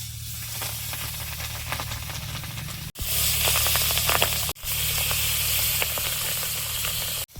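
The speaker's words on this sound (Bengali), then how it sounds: "মাছগুলো এখন লবণ হলুদ মিশিয়ে ভেজে নেব।" Pabda fish coated in salt and turmeric fry in hot oil with a loud, continuous hissing sizzle, cut off briefly twice before resuming, heard up close without speech.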